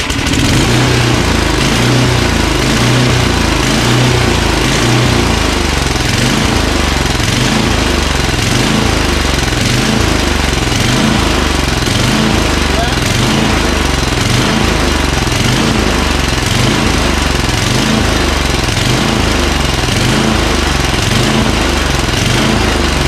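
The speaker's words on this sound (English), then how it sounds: "let's just try and see if the electric start works" Craftsman 9HP Tecumseh snowblower engine running close by with a loud, steady, throbbing small-engine chug that continues without a break and has no talk over it.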